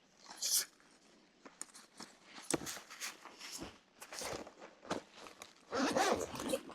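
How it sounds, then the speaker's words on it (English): Zipper closing on the case of a Renogy 200W solar blanket, heard as a series of short, close, raspy zips and pulls with handling rustles between them. "And just zip it closed."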